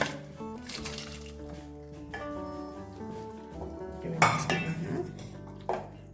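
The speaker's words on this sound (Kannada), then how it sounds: "ನಾವೀಗ ಬೇಯಿಸ್ಕೊಂಡಿರುವಂತಹ ಚಪ್ರದ ಅವರೆಕಾಯಿ ಮತ್ತು ಒಂದು ಪೊಟೊಟೊ ಇದನ್ನ ಹಾಕ್ಕೊಳ್ಳೋಣ" Cooked broad beans and potato tipped into a pan of fried masala, with metallic clinks of a spoon against the pan and soft stirring, moderately close, no talking.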